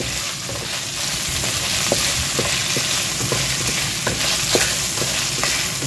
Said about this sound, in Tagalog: pilitin ninyo na haluin ninyo ng haluin